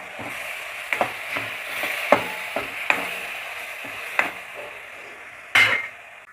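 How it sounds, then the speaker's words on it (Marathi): Tomato puree frying with spices in hot oil in a pan gives a steady soft sizzle, broken by sharp clinks and scrapes of a stirring spoon against the pan and one louder clatter near the end. "आपण टोमॅटो याच्यामध्ये छान भाजून घ्यायचं आहे जोपर्यंत हा मसाला तेल सोडत नाही तोपर्यंत त्याला भाजून घ्यायचं आहे"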